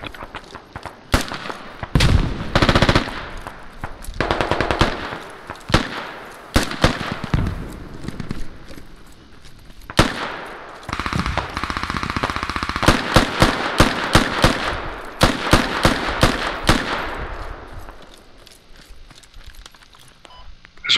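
Gunfire in a shooter video game: sharp repeated shots and bursts of rapid fire, loud and close, with quieter pauses between volleys and occasional player voices.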